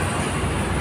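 Riding an MRT-3 train between Shaw Boulevard and North Avenue stations in Manila brings a constant, loud rumble of the moving carriage with a faint rail hiss, brief and steady, no talk.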